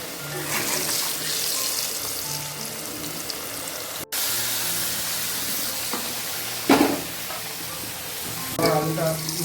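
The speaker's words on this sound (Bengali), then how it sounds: "আলুটা ভাজা হয়ে গেছে" Potatoes sizzle gently in a pan while being stirred, with soft crackling, scraping and a few louder clatters over a low, steady frying hiss.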